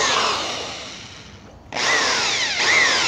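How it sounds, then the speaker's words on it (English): A power drill whines as it bores holes into the metal of a Weber Smokey Joe grill, winding down, pausing briefly, then revving up again with a high grinding screech. "let's drill some holes."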